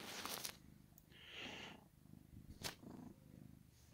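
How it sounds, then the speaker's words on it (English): Close, steady purring from an old cat fills the stretch, a low continuous rumble with a few brief rustles and no talking over it. "Purry, purry, aren't you?"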